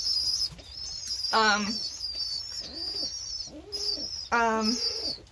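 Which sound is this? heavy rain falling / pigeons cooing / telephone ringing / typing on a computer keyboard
pigeons cooing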